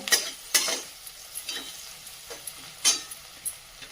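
Onion sautéing in a pan with a pinch of asafoetida and salt for poha, stirred with a spoon: soft intermittent scrapes and taps over a faint sizzle, close and quiet.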